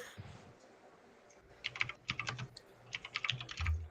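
Quick bursts of typing on a computer keyboard, with clusters of close, crisp key clicks separated by short pauses, heard alone without talk.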